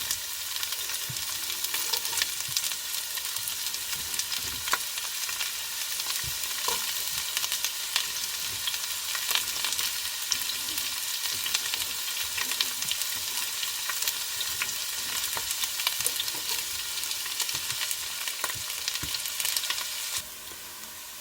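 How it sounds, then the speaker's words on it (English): Celery, carrots and onion sautéing in ghee in a Dutch oven, a continuous bright sizzle holding steady throughout with occasional faint stirring clicks, close and even, with no voices. "now I have about 2 tablespoons of ghee in this Dutch oven, and we're going to go ahead and add in our celery and carrots and our onion"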